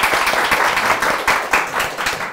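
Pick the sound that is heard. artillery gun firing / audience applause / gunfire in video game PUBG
audience applause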